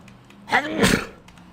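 A single sharp human sneeze, close and abrupt, with a quick breathy intake leading into a loud burst, then quiet.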